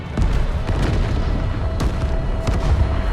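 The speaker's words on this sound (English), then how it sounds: "Random explosions in the distance, bro." Low rumbling booms roll in from far off in the video game Avatar: Frontiers of Pandora, several muffled explosions over a dense, continuous background rumble.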